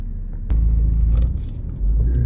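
A Chevy truck goes by close, a deep engine rumble that swells, dips briefly, then surges again over a couple of seconds.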